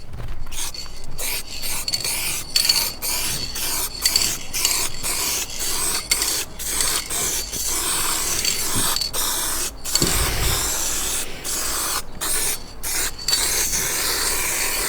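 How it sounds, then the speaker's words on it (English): Clear coat spray paint from an aerosol can hisses in repeated bursts, separated by short pauses, close and fairly loud with a rough, rasping texture. "this is, of course, the Power Can spray paint, which is the clear coat"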